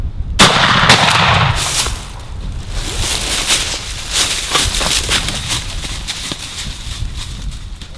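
Shotgun blasts during a spring wild turkey hunt in Texas, with one loud sharp report at the start followed by a rapid scatter of further shots and cracks, close and dominant with no talk.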